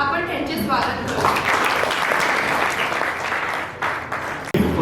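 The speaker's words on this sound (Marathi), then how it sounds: "जोरदार टाळ्या वाजवून आपण त्यांचे स्वागत करू." An audience claps loudly and continuously to welcome a speaker at a youth day event, a dense sustained applause that thins briefly near the end.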